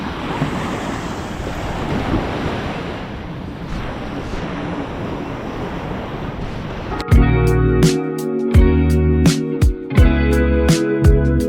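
Surf washes continuously onto a beach in Thailand, steady and broad, then gives way abruptly to a louder, strongly tonal passage with rhythmic pulses over the last few seconds.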